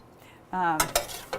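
Cherry tomatoes tossed with sugar and olive oil in a bowl give a few sharp clinks and scrapes of a utensil, following a brief voice.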